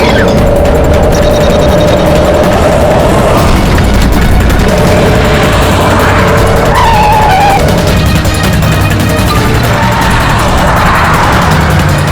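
A car races fast with tires skidding and squealing, loud engine roar and screeching rising and falling continuously throughout.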